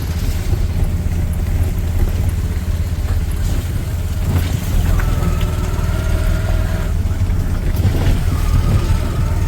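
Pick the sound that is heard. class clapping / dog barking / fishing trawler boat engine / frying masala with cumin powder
fishing trawler boat engine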